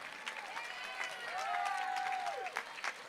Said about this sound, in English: Join me in another round of applause for the students singing the national anthem